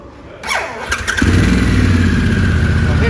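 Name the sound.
Harley-Davidson Pan America motorcycle engine starting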